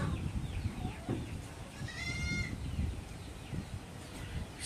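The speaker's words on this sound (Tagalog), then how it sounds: "Tingnan yung mga kambing natin." Goats on a farm bleat once or twice at moderate distance, a wavering call rising above a constant rustling outdoor background with other farm animals around.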